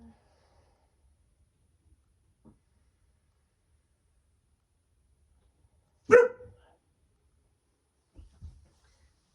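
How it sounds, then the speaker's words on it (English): A single sharp dog bark cuts through near silence, followed later by a couple of faint, muffled woofs. "my dog is in here, so I apologize for the barking."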